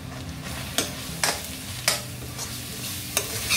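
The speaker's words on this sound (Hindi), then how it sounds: "अच्छे से चला लीजिए इसे" A spoon scrapes through a pan of fish curry as Kashmiri red chili powder is stirred in, giving about five distinct scraping strokes over a low, steady sizzle, with no voices.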